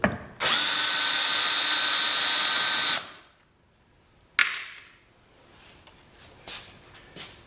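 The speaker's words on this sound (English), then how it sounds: "use the drill motor to remove the wing nut with the least amount of problem" A drill motor spins a wing nut tool to remove a wing nut, giving one loud, sustained whirring burst of about two and a half seconds. A short whine and a few faint clicks and taps follow.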